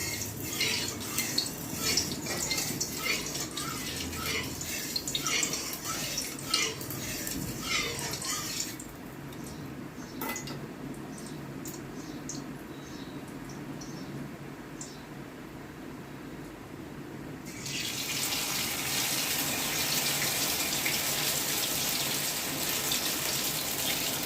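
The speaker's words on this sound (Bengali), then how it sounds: "এবার আমি এর মধ্যে কর্নফ্লাওয়ারে ডুবিয়ে ডিমগুলো ভেজে নেব।" Eggs coated in cornflour frying in hot oil give a steady, crackling sizzle, dipping quieter for a stretch and then rising to a fuller, louder hiss, with no talking.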